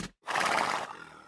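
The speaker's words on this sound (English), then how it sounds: "you might even see some wild horses running around" A wild horse neighs on Easter Island, one loud, close whinny lasting about half a second after a brief gap, trailing off into quieter outdoor noise.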